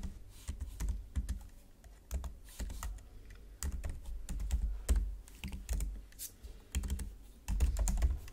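Rapid, continuous clatter of keys on a computer keyboard while code is typed, the strokes irregular and close by, with no voices.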